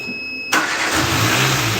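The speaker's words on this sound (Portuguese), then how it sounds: "vou virar o motor agora." A vehicle's starter motor turns the engine over during an electrical grounding check. It kicks in abruptly and gives way at once to a steady running drone, near and fairly loud.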